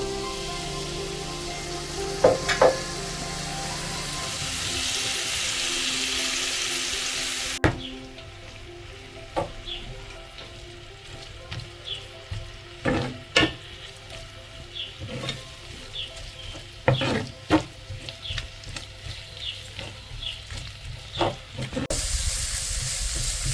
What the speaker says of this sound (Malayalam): ഇനി ഇതിലേക്ക് ഒരു തക്കാളി അരിഞ്ഞു കൂടി ചേർക്കാം.